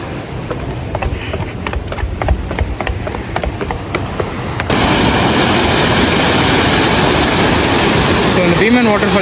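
Flowing water at Bheeman Falls in the Jawadhu Hills, heard first as a moderate rush with scattered clicks and handling noise, then swelling into a loud, close, continuous roar of falling water.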